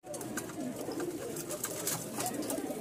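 At a pigeon seller's stall holding many pigeons, a single bird coos softly and repeatedly over a steady low background hum, with no talking.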